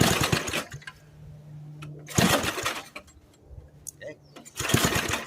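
An old lawnmower fitted with a motorcycle carburetor is pulled over on a cold start with the choke fully on, giving repeated loud bursts of cranking and sputtering separated by quieter pauses.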